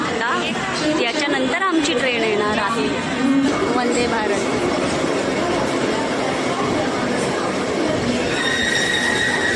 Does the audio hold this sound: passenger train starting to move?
yes